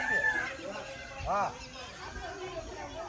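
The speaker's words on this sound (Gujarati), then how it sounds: "પક્ષી કેટલા બોલે તમે અવાજ સાંભળો." Birds call outdoors at a rural shrine site near Bhanvad, with a clear call at the start and a louder, rooster-like call midway, set over a steady open-air background.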